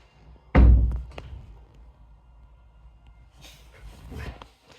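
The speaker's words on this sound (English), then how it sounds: "my dog just opened the door" A dog pushes a door open indoors, one sharp heavy thump followed by faint scuffling and softer knocks as it moves through, fairly close with no talk.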